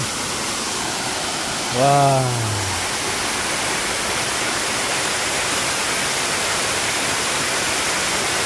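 Steady, full rushing roar of a mountain waterfall heard up close at the end of a hiking trail, constant throughout, with one man's brief exclamation over it.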